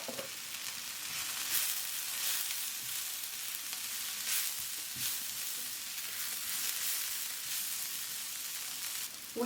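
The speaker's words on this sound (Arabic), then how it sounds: "لما شوي يذبل عندي البصل راح اضيف له توابل، ضيف ملعقة صغيرة من الكاري والكركم" Onion frying in a pan with curry powder, turmeric and coriander, a soft continuous sizzle with faint crackles, close and quiet, no voices.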